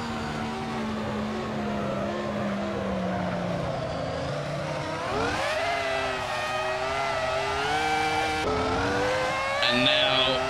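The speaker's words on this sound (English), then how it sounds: "not revving it out enough in third gear, putting it into fourth a bit too early" A Dacia Logan fitted with a V10 engine revs hard and climbs through the gears, pitch rising steadily, dropping at each shift, then rising again, loud and close throughout.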